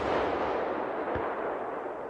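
Stridsvagn S tank firing its fixed main cannon, one heavy deep boom thudding out of a loud continuous roar of noise.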